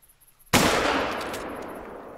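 A single loud hunting rifle shot in theHunter cracks sharply after a quiet moment on Petershain cornfields, its long echoing tail fading slowly over the next second and a half.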